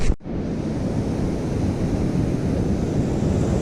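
Ocean waves wash up on a beach during metal detecting, a steady loud roar of surf mixed with wind buffeting the microphone after a brief knock at the start, with no talking.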